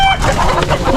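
Rhode Island Red hens cluck in short, close, repeated bursts while eggs are being collected on a farm, with a person's voice audible faintly underneath.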